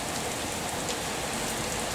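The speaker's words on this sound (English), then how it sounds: "It's tipping it down" Heavy rain pouring down in a steady, dense hiss of drops on surfaces, continuous and alone, with no other sounds over it.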